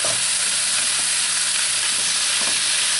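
Bacon, kielbasa and onion frying in a pan, a loud, steady, close sizzle that fills the whole stretch, with a few soft stirring scrapes beneath it.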